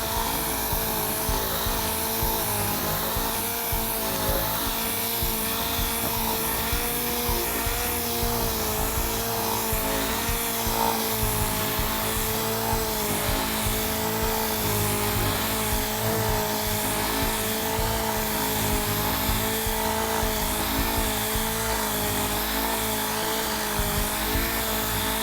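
Sanding a car body panel: a steady, loud whirring grind from a power sander that runs without a break, close and continuous, with no talk over it.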